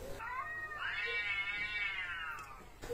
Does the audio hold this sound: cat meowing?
yes